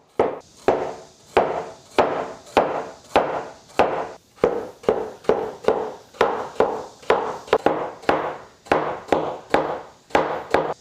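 Knife repeatedly chopping vegetables such as cucumber or celtuce into diamond-shaped slices on a cutting board, about two dozen sharp, evenly spaced thuds at a quick steady rhythm, close and clear with no talking.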